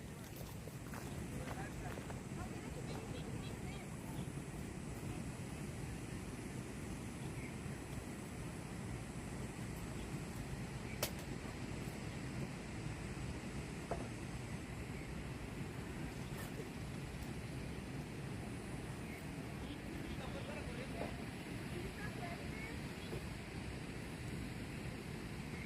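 At a lakeside campsite, water laps steadily close to the microphone under a constant low rumble of wind buffeting, with a few faint clicks and knocks scattered through.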